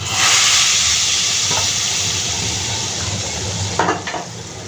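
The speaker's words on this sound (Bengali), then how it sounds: "এখন আমি তেলটা তেলটাকে এখানে হালিমের মধ্যে দিয়ে দিচ্ছি" Hot oil poured over beef haleem sends up a loud hiss that slowly dies down, followed near the end by a couple of brief sharp clatters, like a pan or spoon against the pot.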